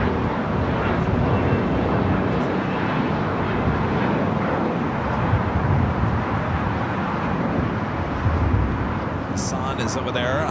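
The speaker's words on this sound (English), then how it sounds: "Looking good for a south side takeoff for Austrian" An Austrian Airlines Boeing 777 taking off from the south side at Los Angeles International Airport, a loud, continuous broadband jet engine roar that holds steady across the whole stretch, with some wind buffeting.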